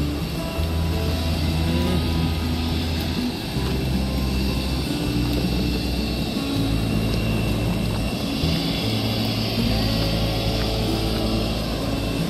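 At Siem Reap airport in Cambodia, a Sky Angkor Airlines aircraft engine drones in a steady, loud, unbroken roar that holds for the whole stretch.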